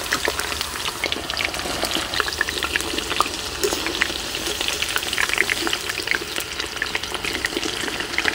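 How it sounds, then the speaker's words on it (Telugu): Drumstick (moringa) pieces fry in hot oil for a pickle, giving a steady, dense sizzle with crackling pops and occasional stirring, close and continuous with no speech. "ఇప్పుడు మునక్కాయ ముక్కలు వేయించుకుందాం"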